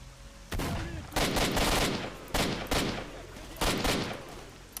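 Pump-action shotgun blasts in the video game STALKER: Shadow of Chernobyl, four loud booming shots about a second apart, close and harsh, during a firefight.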